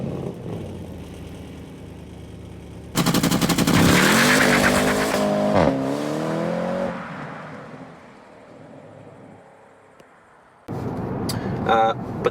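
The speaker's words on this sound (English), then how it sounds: "I'm gonna insert a launch control video with a previous Turbo here." A Porsche Panamera Turbo V8 makes a launch control start: quiet idle, then a sudden loud full-throttle roar climbing through gear shifts, fading away, followed by another abrupt burst near the end.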